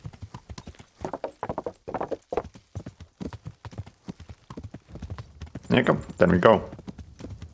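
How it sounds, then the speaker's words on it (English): A horse in Kingdom Come: Deliverance gallops in quick rhythmic hoofbeats, then snorts and whinnies loudly near the end, with someone talking briefly over the riding. "you're going to see quite a bit of horse riding throughout this run"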